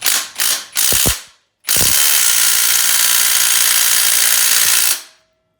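A pneumatic ratchet tool works on a foot peg bolt of a Yamaha YFZ450 quad, firing three short buzzing bursts and then one long, loud continuous whirr close by.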